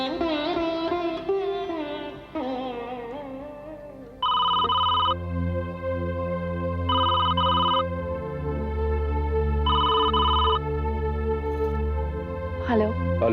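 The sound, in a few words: telephone ringing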